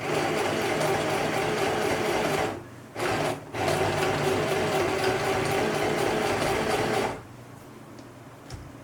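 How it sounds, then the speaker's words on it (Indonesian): A sewing machine stitches short pants in fast steady runs of close mechanical whirring, stopping briefly twice, then halting near the end into quiet. "Semua dijahit seperti tadi ya, pas yang di garis-garisnya ini."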